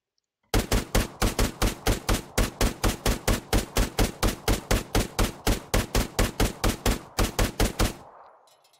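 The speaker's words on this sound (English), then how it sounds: "This HMG is now ready to fire, and so we'll expend some ammo at these convenient targets" A heavy machine gun in Arma 3 with the ACE3 mod fires one long, steady burst of loud, evenly spaced shots close by, then stops abruptly, leaving a faint fading echo.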